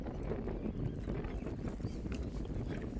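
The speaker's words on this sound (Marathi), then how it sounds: "वारा सुटला मित्रांनो." Wind gusting over open water at a fishing spot, a steady low rumbling buffet against the microphone with faint splashing and knocking underneath, continuous and without speech.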